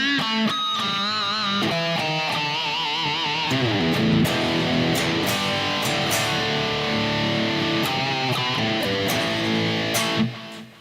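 Electric guitar turned up loud in a room, playing sustained chords and melodic lines with a driven, slightly distorted tone, steady and continuous for about ten seconds before stopping abruptly.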